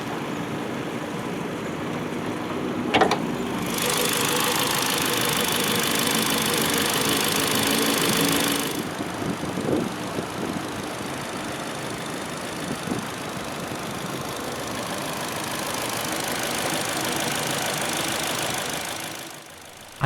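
A 2013 Ford Fiesta Titanium's 1.5-litre dual overhead cam 16-valve inline-four idles steadily with a constant low hum, heard close, while a broad hiss rises and falls over it in long stretches.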